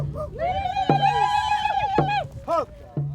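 Horses on a prayer horse ride across northern Nevada neigh and whinny loudly and close, several long wavering calls in a row, with the ride's background noise underneath.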